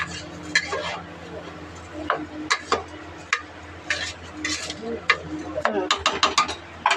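A spoon scrapes and clinks against a pot of pulao vegetables, cauliflower and peas among them, as they are stirred at home. Irregular close metallic knocks and scrapes come over a low steady hum, with no talk.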